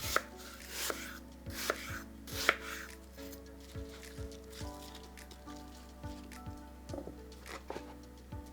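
Rapid, even knife chops on a board as apples are cut into roughly equal cubes, a steady rhythmic tapping with no talk.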